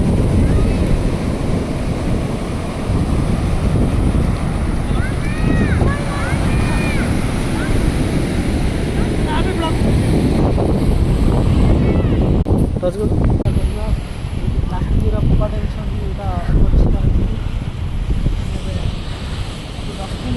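Sea waves at Jahania beach wash in steadily with wind buffeting the microphone, a continuous loud surf roar throughout while people talk over it.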